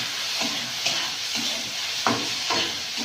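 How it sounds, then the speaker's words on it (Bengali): Chili powder and cumin powder fry in a pan with a soft continuous sizzle and a few scraping stirs at irregular intervals, close and moderately loud. "এবারে দিয়ে দেবো অল্প একটু লঙ্কার গুঁড়ো আর জিরের গুঁড়ো দিয়ে একটু ভেজে নেব।"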